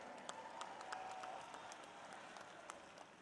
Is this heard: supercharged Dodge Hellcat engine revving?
no